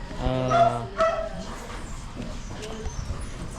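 A dog gives a couple of short, high yelping barks close by, followed by quieter background noise.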